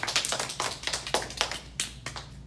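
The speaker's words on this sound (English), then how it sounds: "Give yourselves a round of applause." A small audience at a hair-styling training session claps for themselves, a sparse, uneven patter of individual hand claps close by.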